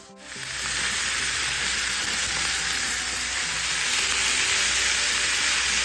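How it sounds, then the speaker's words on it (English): Chopped bacon frying in a pan on high heat, a steady, loud, continuous sizzle with crackling that fills the whole stretch without any talk. "So I will begin to fry the pieces of bacon."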